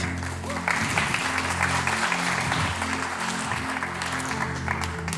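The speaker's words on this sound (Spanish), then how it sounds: "Un aplauso para Vicky." Applause from a youth seminar audience for a participant named Vicky, steady clapping over a low background hum and faint music-like tones, with no one talking.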